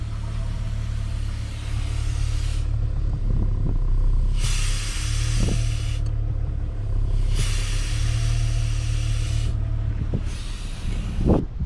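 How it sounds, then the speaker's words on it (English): A 2000 Jeep Grand Cherokee idles with a low steady rumble while a vacuum leak at the brake booster hisses in bursts each time the brake pedal is pressed, three or four distinct hissing spells. "I'm gonna step the brake and you're gonna hear a hissing sound."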